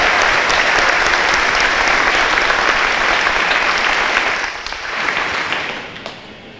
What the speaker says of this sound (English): let's give a huge round of applause to this year's graduates